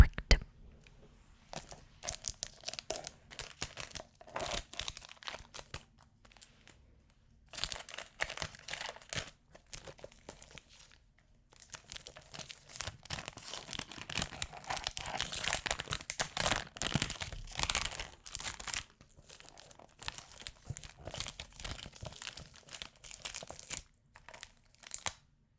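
Substantial perfume packaging for a rose fragrance is crinkled and crunched up close in bursts of rustling and tearing, with pauses in between and soft speech in places.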